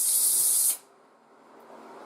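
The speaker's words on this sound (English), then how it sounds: "blow the barrel out just a touch" Short, loud burst of compressed air blown through a rifle barrel during F-class barrel fitting, a broad hiss that cuts off sharply after under a second, leaving a quiet workshop.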